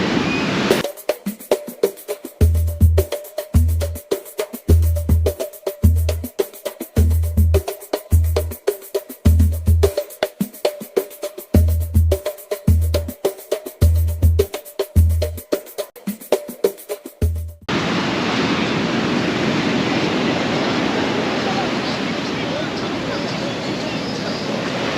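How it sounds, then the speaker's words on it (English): Ocean surf at Copacabana and Ipanema beaches in Rio de Janeiro, with a broad steady wash of breaking waves filling the last stretch, preceded by choppy, rhythmic thumping noise near the microphone. "And the waves here, they're big, man."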